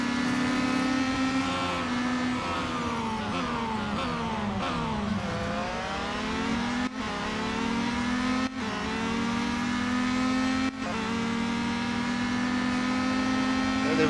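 Race car engines roar in the Real Racing 3 video game, a loud sustained whine that climbs and dips with gear shifts and revving, with brief dropouts at each shift.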